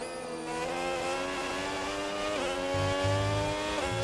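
Race cars in a sim racing league game at the Austria circuit, engines revving high and climbing through gears with a whining, rising pitch and brief dips at shifts, close and loud.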